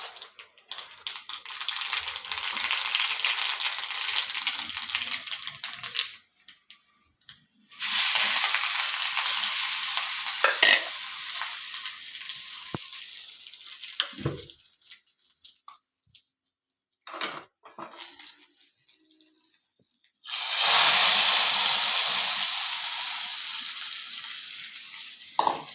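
Mustard seeds splutter and crackle in hot oil while tempering for mango pulissery, in loud bursts of sizzling that cut out into quiet pauses and then flare up again, with stirring sounds and no talk.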